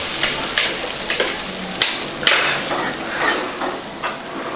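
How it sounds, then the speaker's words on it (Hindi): Vegetables burning in a hot pan give a loud, continuous hissing sizzle with scattered crackles and scraping stirs, close by and alone without speech. "मेरी सब्जी जल गई"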